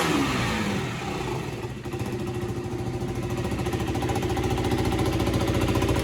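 A second-hand BS4 motorcycle engine runs steadily at idle in a bike showroom in Siliguri, a loud, continuous rhythmic chug with a brief dip near the start, no talking over it.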